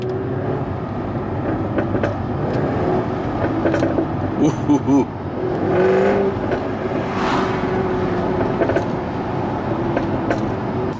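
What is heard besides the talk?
Jaguar F-Type R car engine sound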